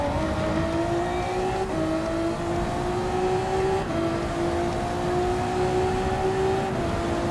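A race car drifts around Fuji in Gran Turismo 7 on a partly wet track, its engine revving in repeated rising whines that shift up and drop back, with a continuous tyre and road roar underneath.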